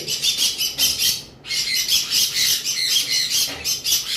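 Conure parrots, including sun conures and yellow-sided conures, squawk at a bird seller's shop in a rapid run of shrill, close calls, with a brief gap before the chorus resumes.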